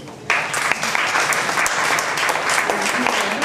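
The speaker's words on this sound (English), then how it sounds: "Let's give her a round of applause" A library dedication crowd breaks into sudden applause, loud and sustained, the clapping swelling in at once and continuing evenly to the end.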